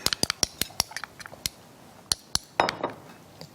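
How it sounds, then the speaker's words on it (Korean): A spoon clinks against a bowl while stirring a sauce of soy sauce, vinegar, sugar and oligosaccharide syrup: about a dozen sharp, close metallic taps in an uneven rhythm, ending in a brief scrape, with no talking. "넣고 잘 저어주세요."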